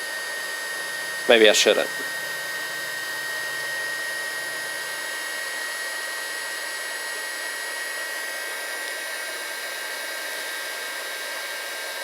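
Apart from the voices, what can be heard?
Haisstronica heat gun running on heat shrink connectors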